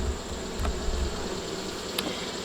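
Honey bees on a frame pulled from a hive give off a steady, close buzzing that stays even throughout, with a few individual bees zipping past.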